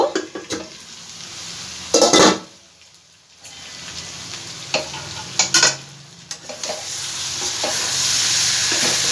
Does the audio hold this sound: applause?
no